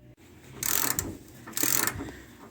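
A gear puller grinds and ratchets in two strained bursts as it draws the crankshaft gear off a 1976 Dodge D100 engine, close and moderately loud with a metallic rasp, no talk.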